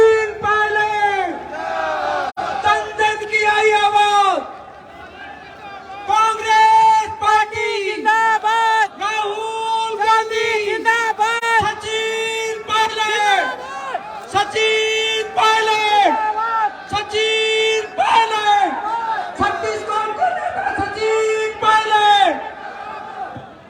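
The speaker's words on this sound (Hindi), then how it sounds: "एक बार तो जोरदार नारा लगाएं, सचिन पायलट, सचिन पायलट, जोरदार तालियों के साथ" A large outdoor rally crowd at a Congress party meeting in Pilibanga chants Sachin Pilot's name in loud, rhythmic, shouted bursts, with cheering and yelling filling the whole stretch and little quiet between phrases.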